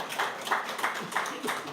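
A small audience at a political talk claps in a short, steady patter of scattered hands, with little else around it.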